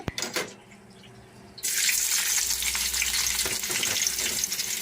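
Onion and curry leaves sauté in oil for capsicum thokku. A few stirring knocks come first, then a loud, steady, close sizzle starts abruptly and keeps going to the end, no talking.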